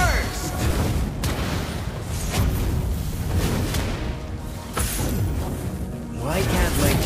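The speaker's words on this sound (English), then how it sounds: "Lava burst!" Valir's Lava Burst skill in the Mobile Legends mobile game lands as heavy, booming fiery blasts amid dense battle effects, with an in-game announcer voice over a constant loud mix.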